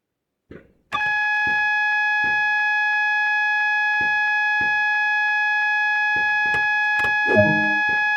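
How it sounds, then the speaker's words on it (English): The AWS self-test alarm in a train cab in Train Sim World sounds as a loud continuous electronic tone, starting after a click and holding steady, with faint clicks and knocks of controls beneath it. "That alarm is the AWS self-test system."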